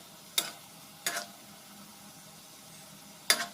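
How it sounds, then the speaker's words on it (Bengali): Sweet potato pantua frying on a medium-low flame, with three sharp, brief stirring scrapes in the pan over a quiet, steady sizzle. "মিডিয়াম টু লো ফ্লেমে করে একদম নাড়াচাড়া করে করে ধীর স্থির করে ভেজে নিতে হবে"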